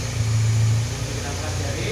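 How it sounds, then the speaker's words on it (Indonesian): A Toyota Corona EFI engine with ESA ignition idles on an engine stand, giving a steady low mechanical drone with a voice speaking faintly over it. "Sistem pengapian ESA ini coba kita hidupkan dulu. Oke, mesinnya sudah hidup."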